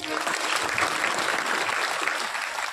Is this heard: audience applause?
yes